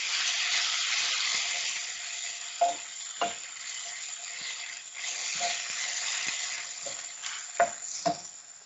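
Bistek tagalog, beef with onions, sizzles steadily in an oiled pan while being stirred, with a constant frying hiss broken by a few sharp knocks of the utensil against the pan.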